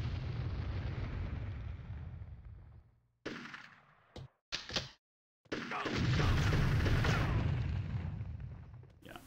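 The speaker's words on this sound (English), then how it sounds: "Can I chuck some nades at these boys?" Grenade blasts in the Nintendo 64 game Army Men: Sarge's Heroes: a long rumbling burst, then several short sharp booms separated by near-silent gaps, and a final loud rolling explosion.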